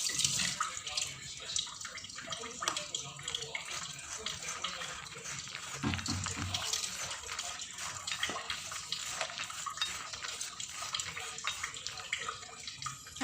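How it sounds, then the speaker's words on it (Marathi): Water is poured a little at a time into homemade masala peanut mix with lemon juice, a steady close splashing trickle that swells briefly partway through. "आपण थोडं थोडं पाणी घेऊया मिक्स करायला."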